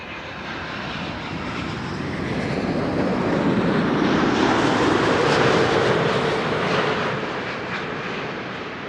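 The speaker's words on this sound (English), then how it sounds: "LATAM Airlines flight 8078 arriving from Sao Paulo" LATAM Airlines jet arriving from Sao Paulo at Amsterdam Schiphol Airport, a loud broadband engine roar that swells as the plane passes close and then slowly fades.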